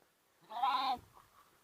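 A single close lamb bleat rises out of near silence, lasting about half a second, from lambs kept in the shade under an olive tree.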